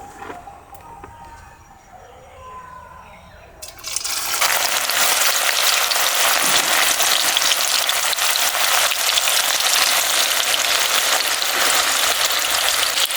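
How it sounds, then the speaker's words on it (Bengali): After a few quiet seconds, a loud, dense crackling hiss of lentils deep frying in hot oil over high heat for dal chanachur starts suddenly and continues steadily. "আমি একইভাবে সব ডালগুলো ভেজে নেব।"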